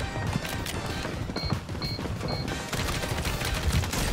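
Fast bursts of automatic gunfire from Call of Duty Warzone on Rebirth Island rattle steadily at moderate loudness, with a few short beeping tones mixed in and no voices.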